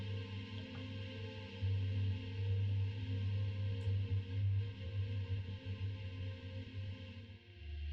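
A self-made music track in homage to Resident Evil plays on its own, with low droning sustained tones and a thick bass layer that swells after the opening seconds, echoing and dark, with no voices.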